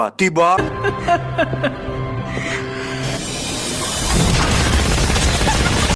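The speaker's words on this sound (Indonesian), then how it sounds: "di saat Sina sedang asik menembaki pasukan terdepan" Loud gunfire and booming blasts from an action film about convicts and police teaming up erupt over a tense music score, building into a dense, roaring barrage.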